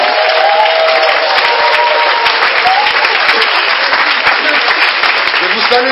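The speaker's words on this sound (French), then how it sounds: "Est-ce qu'on peut acclamer Jésus-Christ de Nazareth?" A church congregation applauding and cheering in acclamation of Jesus Christ, with loud, dense, sustained clapping from a large crowd throughout.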